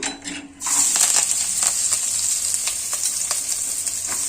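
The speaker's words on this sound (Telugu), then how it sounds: "నూనె అయితే వేస్తానండి కాలిపోతుంది ఆయిల్ ఈటెక్కిందండి ఇప్పుడు ఉల్లిపాయలు వేసేసుకోవచ్చు" Chopped onions dropped into hot oil in a pan set up a loud, steady sizzle that starts abruptly and carries on evenly, with occasional crackles and pops, and no voices.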